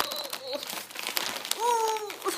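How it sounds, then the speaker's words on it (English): A Forever 21 shopping bag is pulled open, producing close, busy crinkling and rustling throughout, with a voice making brief sounds over it. "Let's open up this Forever 21 bag so you guys can see my cute new phone case."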